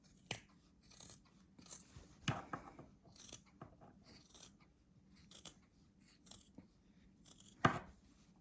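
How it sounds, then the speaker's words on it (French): Scissors cutting embroidered fabric gloves 2 mm from the edge, several quiet close snips spaced irregularly with soft rustling between them, no talking. "Il ne reste plus qu'à découper à 2 mm du bord."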